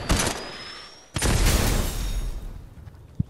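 Two booming shotgun blasts from a pump shotgun in a video game, the first short and the second longer with a rumbling tail, plus a sharp click at the end, no talk.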